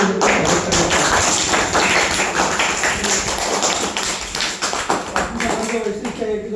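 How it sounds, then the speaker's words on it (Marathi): Applause greets a visiting journalist and editor at a primary school event in Vedhepada, Bhiwandi taluka. Dense clapping from a crowd fills the whole stretch at steady volume, with general murmur mixed in. "त्यांना जोरदार टाळ्यावर"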